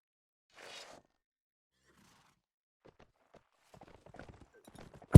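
Cavalry horses in a strategy video game send out short runs of hoofbeat clops, sparse and quiet at first, then a faster burst, ending in a sudden loud impact.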